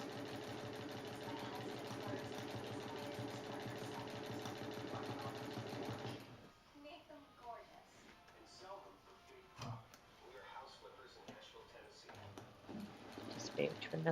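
A sewing machine doing free-motion scribble and zigzag stitching on fabric whirs steadily and loudly for about six seconds, then stops, leaving quieter rustling and handling noises.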